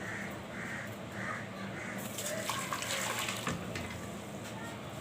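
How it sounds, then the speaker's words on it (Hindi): Water is poured from a glass into a pot with sugar for syrup while making apple murabba, a short splashing pour midway amid faint background noise. "एक गिलास पानी का मैंने ऐड कर दिया है और 3 कप चीनी।"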